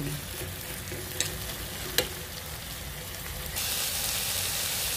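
Chicken browning in a frying pan crackles and sizzles up close, with a couple of sharp pops early on; the hiss then grows brighter and louder for the last second or so.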